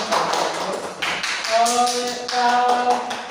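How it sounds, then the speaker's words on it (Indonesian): A classroom of students applauding, a dense patter of many hands clapping close by for several seconds, with a voice speaking over the applause. "Berikan aplaus"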